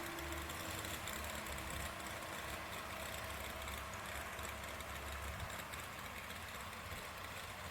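A pulling truck idles at a truck and tractor pull in Brandenburg, Kentucky, a steady low engine rumble with a constant broadband roar of a busy outdoor event around it.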